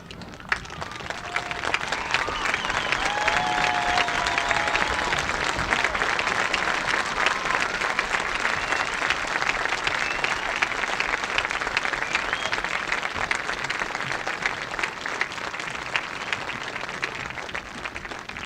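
A large crowd at a high school graduation ceremony gives teachers sustained, steady applause, a broad wash of clapping that stays even and lasts the whole stretch.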